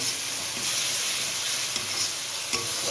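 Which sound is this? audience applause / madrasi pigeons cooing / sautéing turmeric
sautéing turmeric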